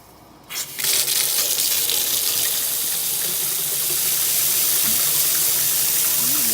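Water bursts on abruptly from a rebuilt Delta kitchen faucet, then gushes steadily and loudly into the sink without pause.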